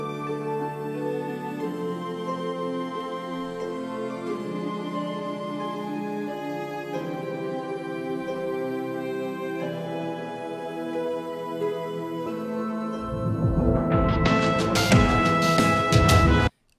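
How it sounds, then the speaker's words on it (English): Synth chords interlude loop from an FMOD Studio game audio project: sustained, layered electronic chords play steadily and alone, then a brighter, denser, louder burst enters near the end before cutting off abruptly. "this is the interlude loop"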